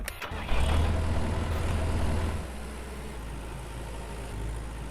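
Tractor engine in Farmer's Dynasty rumbling steadily, starting with a low throaty burst that settles into a continuous mid-pitched idle drone, close and alone with no talk.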